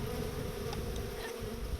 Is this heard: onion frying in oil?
no